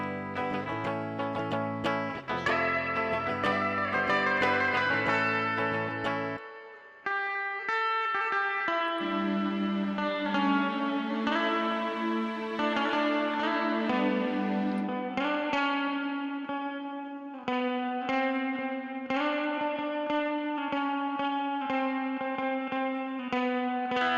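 Acoustic guitar solo recorded in GarageBand with tremolo and reverb effects, plucked melodic notes ringing out clearly over a sustained backing, continuous and prominent throughout.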